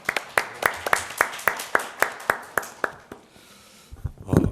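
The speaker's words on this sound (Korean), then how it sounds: "따뜻한 박수로 맞아주시기 바랍니다" A small policy-forum audience claps to welcome a university psychiatry professor, a few distinct handclaps in a steady rhythm for about three seconds, then fading to quiet murmur and a soft rustle.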